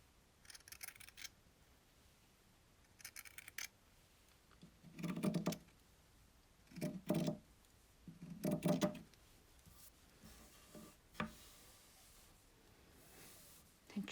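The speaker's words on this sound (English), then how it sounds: "Get a much smoother kind of rhythm going with your scissors." Scissors cutting through T-shirt fabric laid on a table, several separate bursts of snipping and crunching in an uneven rhythm, close and fairly quiet with pauses between cuts.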